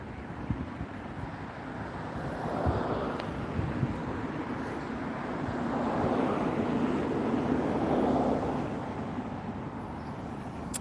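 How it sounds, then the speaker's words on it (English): A helicopter passes unseen somewhere over an outdoor area, heard as a steady broadband rotor-and-engine rumble that swells and fades across the span, mixed with faint wind and distant traffic-like noise. "Still hear that helicopter,"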